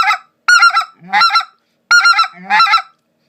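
A Basin Calls Ricer or Crusher speckled goose call blown grunt style gives loud, close, sharp honking bursts in quick clusters, with deeper grunting notes mixed between separate yelps.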